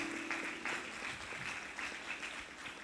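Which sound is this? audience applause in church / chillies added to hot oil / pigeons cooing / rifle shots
audience applause in church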